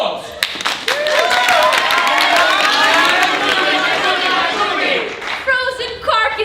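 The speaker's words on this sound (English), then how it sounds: "After a warm round of applause!" An audience claps and cheers together in a brief burst of applause at a live comedy show, dense and loud, with chatter and crowd voices running through it before it tails off.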